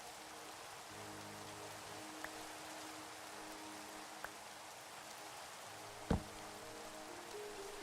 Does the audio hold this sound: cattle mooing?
no